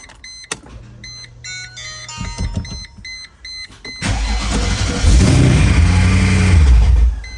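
A Mercedes W210 E55 V8 engine, manual-swapped and running without its shifter module, cranks and catches, then roars to a loud, steady idle with a brief rev, following some clicking and whirring beforehand.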